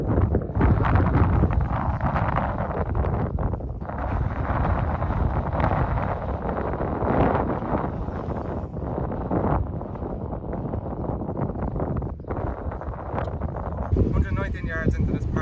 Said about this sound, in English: Big wind from left to right.